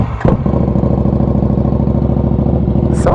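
A KTM RC8 1190 R sport motorcycle, a bare bike with no electronics, cold-starts with a brief crank and catches into a loud, steady, lumpy idle that chugs on evenly up close.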